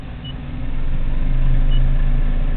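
An electric vehicle with a NetGain Warp controller accelerates under throttle, a smooth motor whine and road rumble that builds over the first second and then holds loud and steady, recorded from inside the car.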